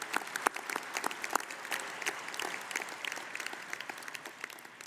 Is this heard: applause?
yes